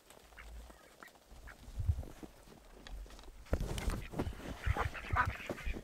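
Ducks quack faintly on a snowy farm, scattered soft calls with crunching footsteps that grow busier toward the end.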